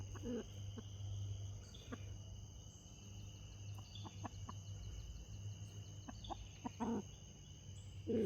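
Backyard chickens cluck in short, scattered bursts over a steady chorus of crickets and a low outdoor hum, soft and somewhat distant.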